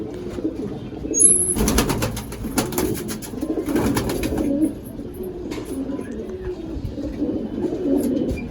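Kalajiriya pigeons of a Rampuri bloodline coo repeatedly in low, throaty rolling phrases close by, with a few brief sharp chirps and some faint rustling in between.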